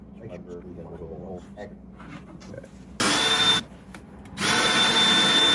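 A power drill bores holes through wood boards for a homemade wooden edge on a tractor snow pusher bucket, sounding in two loud, close, sustained bursts after a stretch of quieter handling noise and faint talk.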